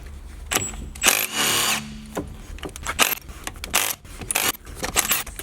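Pneumatic impact gun spinning off rear axle bolts on a BMW E60 during a differential seal job, heard as several loud short whirring bursts with metallic clatter between them.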